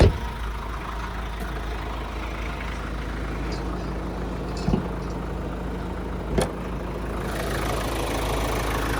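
Ford Ranger Wildtrak 4x4 2.0L engine idling with the bonnet open, a smooth, steady low hum close up, with a couple of brief clicks or knocks over the constant drone.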